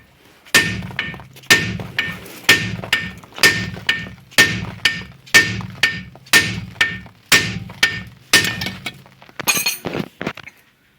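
A hammer strikes repeatedly to knock a torn ball joint free from the front suspension control arm of a Ford C-Max. About a dozen sharp, ringing metal blows land at a steady rhythm, close and loud, ending in a quicker flurry of hits.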